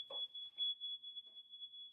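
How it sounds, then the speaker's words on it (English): A smoke detector emits a continuous, piercing high-pitched electronic tone that holds steady throughout, faint and distant, with some soft indistinct sounds underneath. "and a smoke detector going off."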